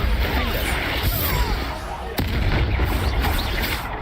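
The Bombarda spell explodes in the video game Hogwarts Legacy as a dense, rumbling blast of booming bursts that continues for several seconds, with a sharp hit about halfway through.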